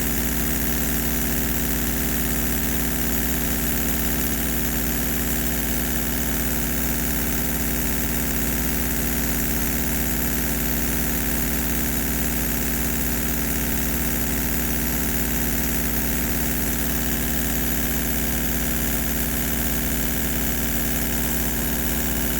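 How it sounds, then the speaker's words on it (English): A twin-cylinder marine steam engine running on air, fitted with a flyball governor, runs at a steady, even pace with a continuous mechanical hum and close, unbroken vibration throughout, with no voices. "These are full sounding engines."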